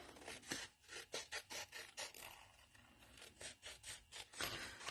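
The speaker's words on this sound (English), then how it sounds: "And then trim the envelope." A paper piece for an envelope is trimmed with a quiet cutter or scissors, a run of short rasping strokes in an uneven rhythm, close and soft.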